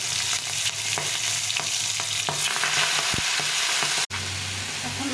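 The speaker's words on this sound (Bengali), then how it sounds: "এখন একটা শুকনো লঙ্কা, কালো জিরে, কিছুটা রাঁধুনি আর কাঁচা লঙ্কা দিয়ে শাকটা ছেড়ে দেবো" Greens dropped into hot oil with dry chilli, nigella, radhuni and green chilli, frying with a continuous loud sizzle and repeated stirring taps, a brief break near the end before the sizzle resumes.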